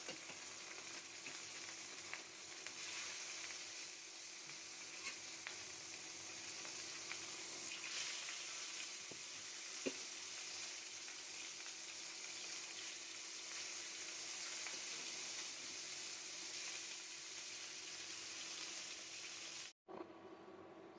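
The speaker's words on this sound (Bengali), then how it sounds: "মাছগুলো দিয়ে দিলাম।" Pieces of rohu fish fry in hot mustard oil in a frying pan, giving a steady, even sizzle that runs for about twenty seconds before cutting off abruptly.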